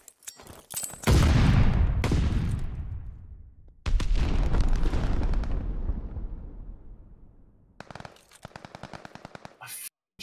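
A grenade goes off in a 4v4 Search and Destroy match of Call of Duty Vanguard. Heavy booms with long, rumbling decays mix with bursts of sharp gunfire, loud and close.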